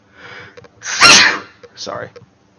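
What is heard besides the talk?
sneeze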